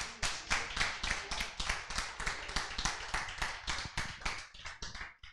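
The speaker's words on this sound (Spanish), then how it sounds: "¿Puede dar un aplauso a Jesús?" A small church congregation claps together in steady, fairly close hand claps for about five seconds, the rhythm loosening and thinning toward the end, with no voices over it.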